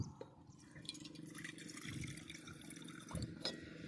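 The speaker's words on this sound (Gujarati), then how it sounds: "તો આપણે પહેલાં તો પાણી ભરીએ।" Water runs from a tap into a vessel at a temple, making a soft, faint trickle and drip with small splashes over about four seconds.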